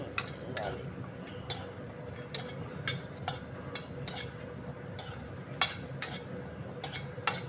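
Raw jackfruit pieces frying in a hot pan, stirred steadily: soft sizzling under a run of sharp, regular scrapes and clicks of a spatula, close but fairly quiet.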